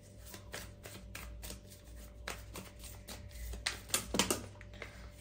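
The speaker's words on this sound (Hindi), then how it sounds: "let me shuffle again" Tarot cards shuffled by hand in close, soft rhythmic flicks and riffles that grow busier and louder toward the end, with no talking.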